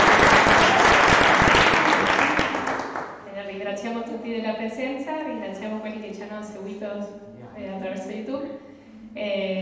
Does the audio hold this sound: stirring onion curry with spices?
no